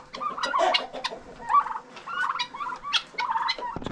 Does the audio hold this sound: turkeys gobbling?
yes